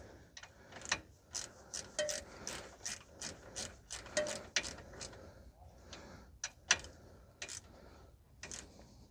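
A hand ratchet clicks in quick bursts of pawl ticks while snugging a ball joint bolt on a 2011 Subaru Outback 2.5, faint and close, with brief pauses between strokes.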